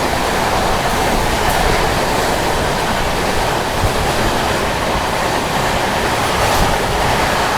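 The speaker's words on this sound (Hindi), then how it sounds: "CR राजधानी एक्सप्रेस आ रही है, उसके साथ आप लोगों को क्रॉसिंग दिखाता हूँ।" Express train thundering past a railway crossing, a loud continuous broadband roar of wheels and rushing air that stays steady and close throughout.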